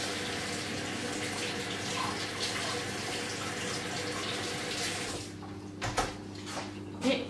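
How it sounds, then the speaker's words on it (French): Tap water runs steadily as a hand is rinsed under it while a meatloaf is being made, a continuous near hiss that cuts off near the end, followed by a few brief clunks. "Je vais juste me rincer à nouveau la main."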